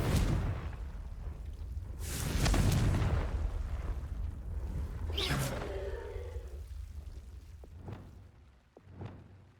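The Confringo explosion spell in Hogwarts Legacy sets off a deep, rumbling magical blast that builds to a boom and fades, followed by a few smaller sharp pops and crackles near the end.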